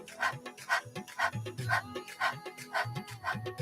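Rapid rhythmic panting with the tongue out in imitation of a dog during a Kundalini yoga breathing exercise, a steady series of quick, breathy puffs close to the listener.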